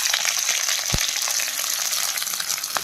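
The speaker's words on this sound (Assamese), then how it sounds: "প্ৰথমতে আমি পিঁয়াজ দিম" Onions frying in hot oil in a wok for Assamese pork curry make a dense, close crackling sizzle, with one low thump of the utensil partway through.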